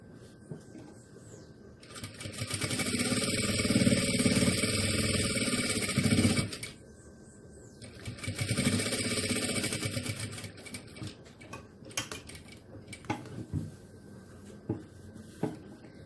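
A sewing machine stitching around the edge of a fabric car trash bag, two sustained runs of fast rhythmic needle chatter separated by a pause, then short bursts and clicks as it stops and backstitches.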